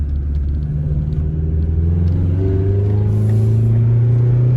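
A 2000 Honda Civic Si VTEC engine idles with a deep rumble, then its pitch climbs steadily as it revs, loud and close.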